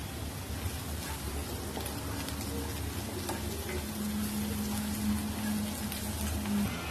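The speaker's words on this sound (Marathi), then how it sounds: "कांदा थोडा लालसर करून घ्यायचा चांगला फ्राय करून घेऊया" Onion fries with curry leaves and asafoetida in a pan, giving a steady close sizzle like rain that holds for the whole stretch, with faint background noise.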